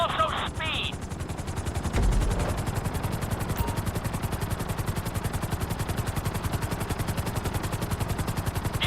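Helicopter in Grand Theft Auto V flying a city tour, its rotor pulsing in a fast, steady rhythmic chop that stays loud and close throughout, with a brief burst of other game sounds early on.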